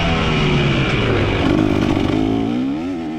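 A dirt motorcycle revs hard on a track, its loud close engine note climbing and wavering under throttle before easing off near the end.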